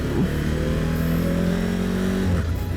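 Suzuki V-Strom 1050XT motorcycle engine revving hard in first gear, a loud continuous engine note rising steadily in pitch for about two seconds, then dropping as the revs fall.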